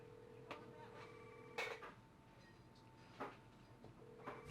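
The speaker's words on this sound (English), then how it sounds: "Is that my phone ringing?" Telephone ringing in a crime drama scene, faint repeated ring tones with short bursts, set against quiet room background.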